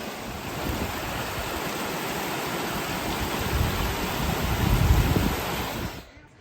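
Mountain stream water rushing beside the John Muir Trail, a steady broadband roar heard up close and alone, swelling slightly before cutting off at the end.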